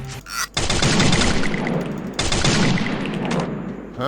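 An M16 rifle fired in the game Free Fire, a loud continuous stream of rapid shots broken by one short pause, then resuming at full force before tapering off.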